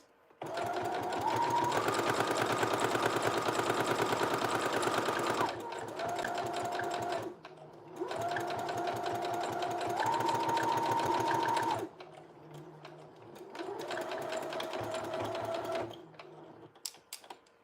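A sewing machine runs through back stitching during garment alterations, three long bursts of rapid steady whirring separated by short pauses, close and loud.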